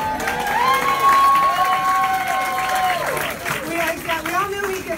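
A crowd at a political campaign kickoff event cheers and applauds loudly and steadily throughout, with raised voices and whoops rising over continuous clapping.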